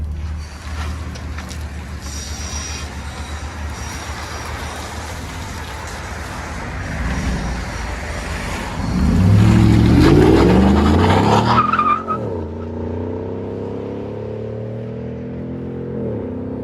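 A car exhaust runs through an 11-inch Magnaflow muffler. It holds a steady, muted drone, swells into a louder rev partway through, then drops back to a softer, lower rumble. No one talks.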